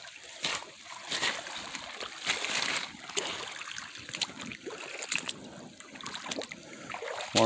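Boots wade and slosh through a gravel-bottomed North Carolina creek, irregular splashes and steps of water sounding close over a faint trickling stream.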